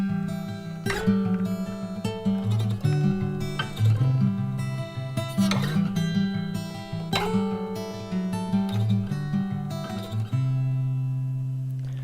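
Live acoustic performance of an original song at Murdoch Sound Studios, with a steadily strummed acoustic guitar carrying a continuous, full and close accompaniment that runs the whole way through.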